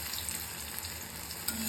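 Curry leaf pakoras fry in hot oil with a soft, continuous sizzle and faint crackle, heard briefly and fairly quietly.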